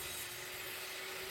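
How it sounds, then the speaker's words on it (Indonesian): A steady, faint whine of a table saw trimming wood for a wall shelf, a continuous high-pitched hiss with no pauses. "Di sini saya menggunakan mesin table saw atau mesin gergaji duduk."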